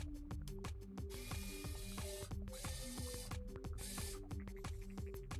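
Small motherboard screws being driven into a PC case by hand, a rapid string of crisp ratcheting clicks from a screwdriver, close and clear with no talk.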